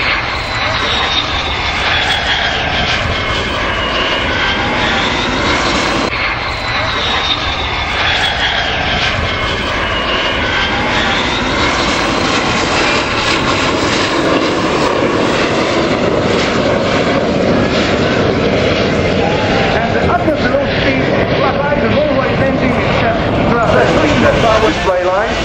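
Display aircraft roar loudly past at the Royal International Air Tattoo at RAF Fairford in 2014, a sustained engine drone that swells and shifts in pitch while an announcer's voice carries over it.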